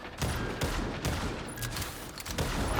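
Gunfire in the video game Marvel Rivals crackles in rapid irregular bursts, fairly close, over a busy backdrop of game effects.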